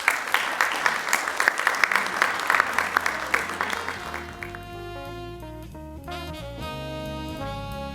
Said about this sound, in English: please give another round of applause for our speakers